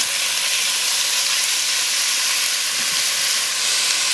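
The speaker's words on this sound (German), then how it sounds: "das Hähnchenfleisch reingeben. Und das braten wir gut an." Chicken meat searing in a Dutch oven, with rosemary oil, gives a steady, loud, dense sizzle throughout, an unbroken hiss of frying with no talking.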